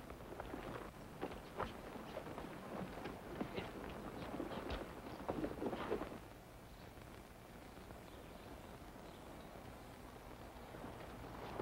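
Hooves of several horses clip-clop in an uneven rhythm on a western trail, moderately close, then fade to quiet ambience after about six seconds.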